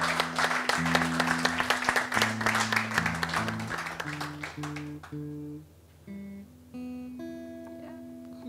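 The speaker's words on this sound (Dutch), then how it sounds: "Applaus voor jullie zelf." An audience at a live show claps in a dense, moderate burst over sustained keyboard or organ chords. The clapping thins out partway through while the music carries on.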